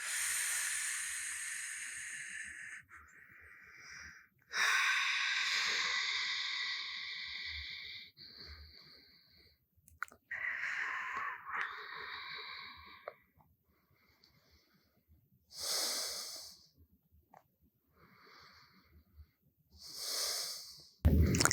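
Slow, deep breaths in and out during a yoga stretch for low back and sciatic pain, each breath a long airy hiss separated by quiet pauses, close and fairly loud, with no talking.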